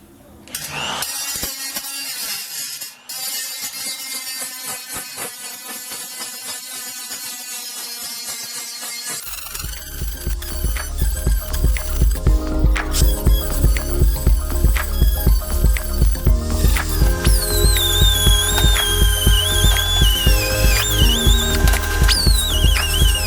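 A grinder works down body filler on homemade car wheel tubs. After a quieter opening, a loud, continuous, high whining grind with a pulsing rhythm dominates the rest of the clip.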